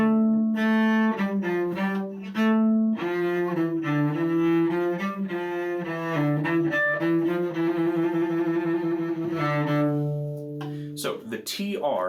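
Cello playing a Suzuki Volume 3 Gavotte passage from measure 16 to the rest in measure 21, with a trill in measure 20; sustained bowed notes in a steady melodic line, close and loud, ending with a brief pause.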